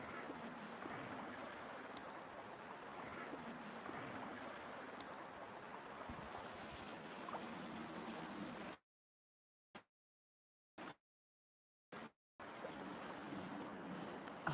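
Gentle water laps at a black sand beach, a quiet, continuous wash with soft trickling close by, cut by brief silent gaps near the end.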